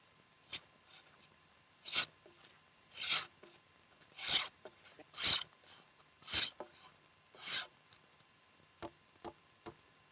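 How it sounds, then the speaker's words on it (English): A wooden log house floor being planed smooth by hand, with about a dozen separate rasping strokes at a steady pace, moderately close and fairly quiet against a silent background. "The floor is finished by planing it smooth."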